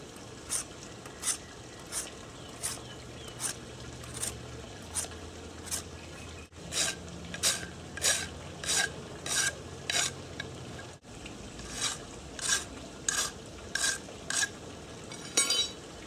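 A knife shaving bark off a wooden hand drill spindle, rhythmic scraping strokes repeated about once or twice a second, close and crisp against a quiet outdoor background, with no talking.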